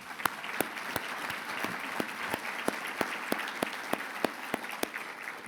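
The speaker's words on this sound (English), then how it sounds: "How about a round of applause for them?" Audience applause at the Growing Global 2024 event thanking the World Trade Center and the Mosaic Project: a continuous crowd clapping at moderate distance, with a few hands near by striking sharp, evenly spaced claps over the wash.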